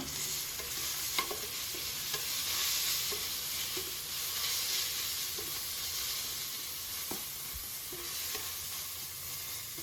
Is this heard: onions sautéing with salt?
yes